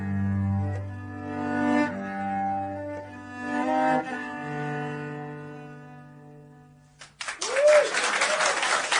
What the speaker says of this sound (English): And those, you heard clapping.